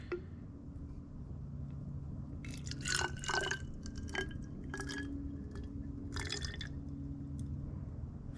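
Tap water poured into the small graduated tube of a reusable ethanol fuel test kit, heard as a few close, wet splashing and trickling bursts over a low steady background hum.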